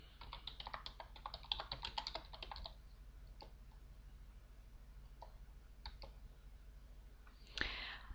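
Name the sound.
typing a command on a computer keyboard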